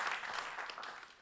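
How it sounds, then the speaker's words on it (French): Audience at a national engineering awards ceremony clapping for a prize winner, a short, faint patter of applause tapering off. "on applaudit Richard"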